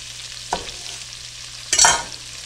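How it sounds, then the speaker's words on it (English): Peppers frying in a skillet are stirred, giving two short scraping, sizzling bursts against a quiet background hiss, the second one louder and longer. "Now just keep an eye on your peppers and just stir those around."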